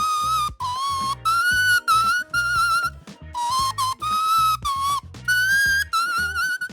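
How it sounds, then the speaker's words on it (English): A shrill paper whistle is blown in a series of short and long blasts with brief pauses between, its pitch wavering slightly, loud and close. "This is a paper whistle."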